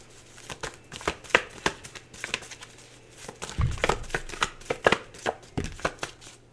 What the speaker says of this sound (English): Just going to pull some cards for you here. Getting all the cards